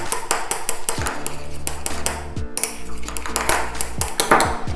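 A utensil stirs homemade peppermint shower gel after preservative is added, tapping and pinging steadily against the container in a quick, close, repeated rhythm.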